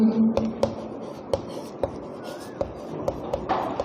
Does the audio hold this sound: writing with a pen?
yes